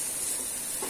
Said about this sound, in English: They are nicely getting browned. Just see, it's nicely getting sauteed.